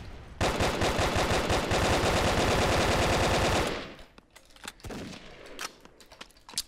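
Rapid automatic gunfire in the video game Brick Force rattles in a sustained burst, then breaks into scattered single shots and quieter game sounds.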